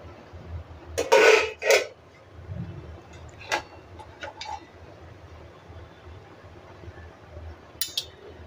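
A utensil scrapes and clinks against a cooking pot while paneer pulao rice is gently turned over, giving a few sharp metallic clinks and soft scrapes that sit close and fairly quiet against a low background hum.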